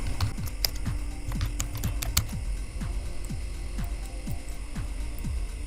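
Someone types on a computer keyboard in quick, uneven bursts of close key clicks over a steady low background hum, with no voices.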